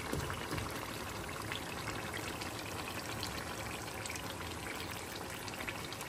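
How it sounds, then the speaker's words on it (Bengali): Water pours steadily into a biryani pot in a home kitchen, a soft continuous splashing rush with no talking. "এইটুকু পানি দেব।"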